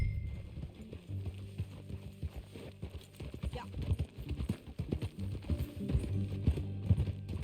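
Horse hooves clip-clop at a steady trot in the Red Dead Redemption video game, with a whinny, faint tack rattle and a brief spoken word over the riding.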